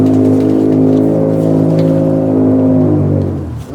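A homemade 1975 Dodge tow truck's engine runs loud and close with a steady, strongly harmonic drone that holds for about three seconds, then sags and fades near the end.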